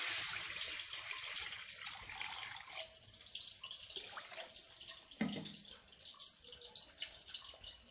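Water poured into a kadai wok while cooking moong dal, a close, continuous rushing splash that thins toward the end, with a few brief knocks and no talking.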